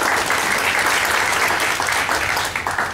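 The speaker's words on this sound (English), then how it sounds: "Just give him a round of applause." A meeting audience gives Craig loud, dense applause after his first presentation, with steady clapping for three seconds that tapers slightly at the end.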